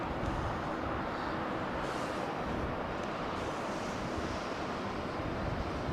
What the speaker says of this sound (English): American 777 with the Trent engines. Listen to it as she comes to a stop.